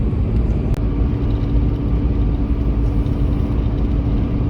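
A car drives steadily along a country road out West, with a loud, continuous engine and road rumble filling the whole stretch.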